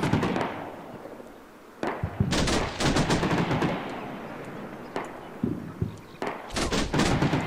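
Gunfire in the Combat Mission Shock Force combat game during urban fighting in Al Amarah: repeated loud bursts of rifle and machine-gun fire in clustered volleys with brief lulls, some shots sharp and close, others duller.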